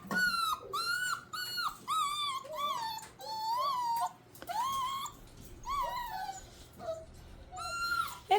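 Six-week-old puppies whine and whimper outdoors, with high yelps and squeaky cries coming in repeated bursts close by while they play with a bottle. No one speaks.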